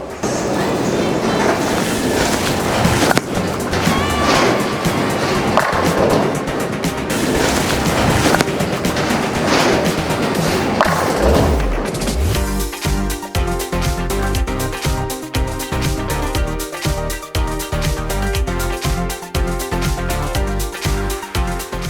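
A 900 Global Vengeance bowling ball rolls down a bowling lane with a loud, continuous low rumble for about twelve seconds, then steady tonal sound takes over.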